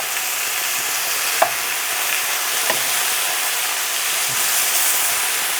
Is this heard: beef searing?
yes